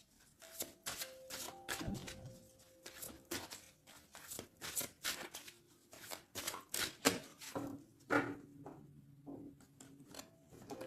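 A deck of tarot cards is cut and shuffled by hand, giving a run of close, quiet riffling and slapping bursts in quick, uneven succession.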